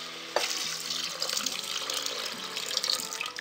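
Water pours into a pan of chole curry with soaked chickpeas, tomato and green chilli, making a continuous splashing stream over faint background music.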